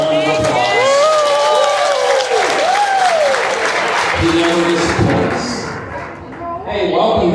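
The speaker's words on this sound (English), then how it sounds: "So, everybody give Chef a round of applause." Lunch crowd at a Kings Island Coasterstock roller coaster enthusiast gathering applauding the chef, clapping and cheering mixed with loud overlapping chatter and shouting voices, plus a few thumps near the end.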